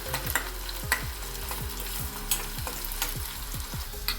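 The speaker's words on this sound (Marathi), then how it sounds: "कांदा ब्राऊन होईपर्यंत छान होऊ द्यायचा" Chopped onion fries in a pan toward browning for masala bhindi, with a loud, continuous sizzle and regular scraping stirs of a spatula roughly every half second, close and without speech.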